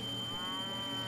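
Livestock low once with a steady, drawn-out moo as a pasture is built in the Civilization V video game, faint and alone with no talk.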